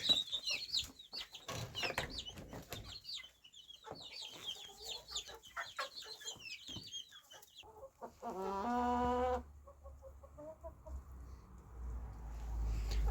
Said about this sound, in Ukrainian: Тут три курочки курчаві і один такий гарний півник.